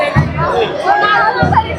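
A loud, dense festival crowd packs a Ganesh procession for the Kalachowki Mahaganpati, with close chatter and shouting voices forming a constant babble.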